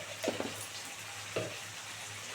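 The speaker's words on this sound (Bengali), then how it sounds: "খুব সুন্দর করে কষাতে হবে তেল ছাড়া পর্যন্ত" Spice paste sautéing in oil in a pan for a prawn and taro (kachu) curry until the oil separates, a steady close sizzle broken by a few soft stirring scrapes, no talking.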